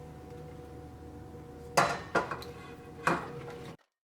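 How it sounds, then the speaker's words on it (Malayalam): Vegetables dropped into a large metal cooking pot while making Thiruvathirai koottu, three distinct clanking thuds with short ringing tails over a low steady hum, then abrupt silence. "ഇതിലേക്ക് നമുക്ക് വെജിറ്റബിൾസ് ചേർക്കാം."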